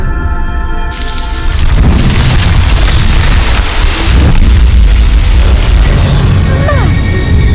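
In the Hogwarts Legacy video game, the Incendio fire spell ignites pyres with a loud booming whoosh and rushing roar of flames, sustained and dense after a brief opening swell.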